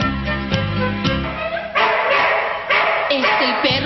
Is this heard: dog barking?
yes